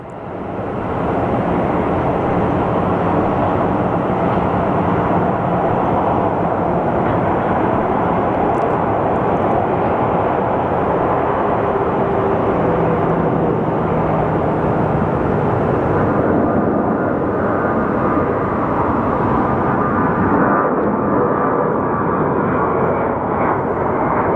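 American Airlines flight 601 to Chicago, a jet airliner at Phoenix Sky Harbor Airport, gives a loud, continuous engine roar that holds steady for the whole stretch, with no voices over it.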